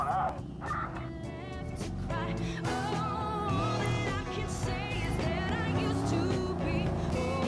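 Car driving in the video game Watch Dogs: a steady engine drone runs throughout, mixed with game music and background sounds, with no clear pauses.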